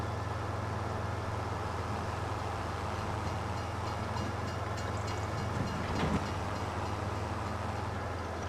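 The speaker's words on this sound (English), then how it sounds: "that train's rolling coal" A train rolls past in Farming Simulator 25, a steady low rumble and wheel noise holding evenly throughout with faint clicks, moderately distant and without talk.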